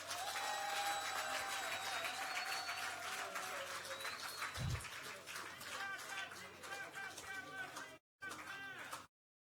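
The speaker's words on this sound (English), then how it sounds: "Let's give him a round of applause again." Town hall meeting audience applauding a prime minister, a broad clapping wash with tonal sustained sounds and some voices through most of the clip, easing near the end before a short gap and a brief final burst.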